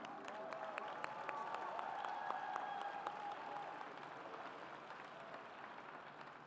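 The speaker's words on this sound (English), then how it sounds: "How about another round of applause" Steady applause from an audience at a regional competition awards ceremony fills the whole stretch, a dense wash of clapping that stays even and fairly loud, with faint crowd noise beneath.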